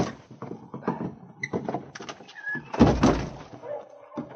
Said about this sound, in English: I'll reach through and unbar the door from the outside.